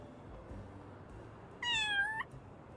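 A single short cat meow sounds from a video game, clear and high-pitched over a quiet, faint background hum.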